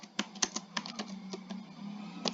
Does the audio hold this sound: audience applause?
no